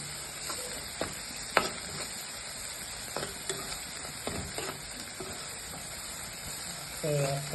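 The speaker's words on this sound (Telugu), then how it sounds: "వేయకుండా ఇలాగే ఫ్రై చేసుకోవాలి ఎండు రొయ్యలు." Dried prawns fry quietly in a pan for an egg curry, a soft steady sizzle punctuated by scattered stirring clinks and scrapes, faint and close, with a brief louder rattle near the end.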